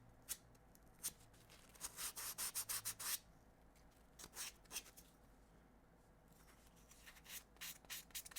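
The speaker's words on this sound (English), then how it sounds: "this sandpaper's awesome" Sandpaper rubbing by hand, heard as close, soft scratchy strokes in short bursts, with a quick run of rapid rubs and quieter pauses between, with no talk.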